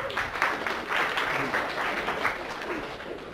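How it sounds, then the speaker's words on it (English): Seminar audience at an NLP hypnosis session giving themselves a round of applause, a steady wash of clapping from a moderate-sized crowd that holds throughout and tapers slightly at the end. "Give yourselves a big round of applause."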